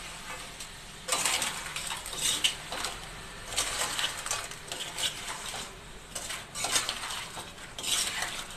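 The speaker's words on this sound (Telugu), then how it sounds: "ఇప్పుడు మిక్స్ చేయండి బాగా." A spoon stirs peethala pulusu, an Andhra crab curry, in a pot, making irregular clinks and scrapes in bursts against a quiet background with no talking.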